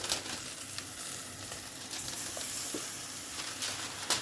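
Zucchini with yellow and red peppers sizzle in a hot wok alongside chicken, giving a steady crackling fry with occasional brighter pops and a light stir near the end.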